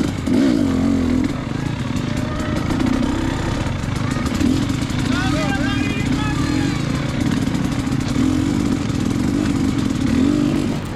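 KTM 250xc two-stroke dirt bike rolling slowly through a motocross pit area, engine puttering steadily and loud up close throughout, with light throttle variations and faint background voices.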